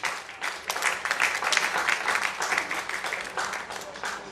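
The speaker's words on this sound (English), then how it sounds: "Let's give him another round of applause." Audience applause at an award and dinner night held by a Nigerian medical association, many hands clapping in a dense, steady wash for the full length, fairly loud and close, with some voices mixed into the crowd.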